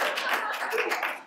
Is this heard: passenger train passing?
no